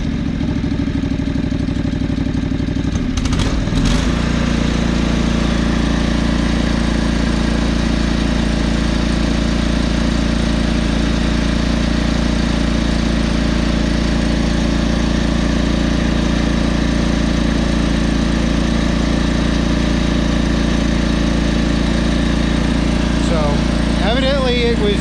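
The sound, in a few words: John Deere 445 lawn tractor engine running at throttle up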